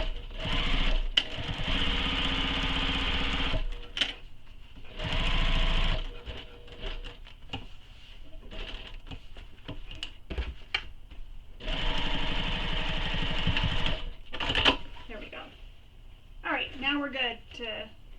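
Sewing machine stitching a tote bag seam through foam and fabric, running in several bursts of rapid whirring stitches separated by pauses, with someone talking between and over the runs.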